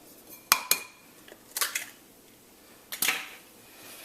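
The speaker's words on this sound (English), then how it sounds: "is to crack the 2 eggs into a bowl" Two eggs are cracked into a bowl: a few sharp, close knocks and cracks come in separate bursts with quiet pauses between them, and no one talks.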